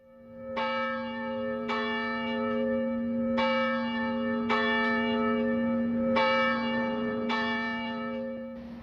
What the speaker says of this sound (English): church bells rang at 7:50 and again at 8:15 in honor of all those who died on 9/11